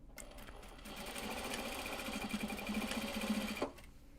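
A sewing machine runs steadily, stitching pieces of Japanese fabric together for a Kato drawstring bag, in one continuous close burst of several seconds that stops abruptly.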